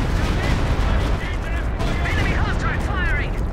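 A Walking Stuka rocket barrage in Company of Heroes 2 lands as a heavy, continuous roll of explosions and rumbling impacts, loud and dense throughout, with a voice talking over it.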